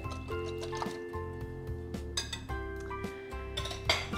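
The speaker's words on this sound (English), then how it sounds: "give that another little whisk" Bread pudding mixture whisked in a bowl, a quick run of light metallic clinks and taps ringing close and clear over a few seconds, with no voices.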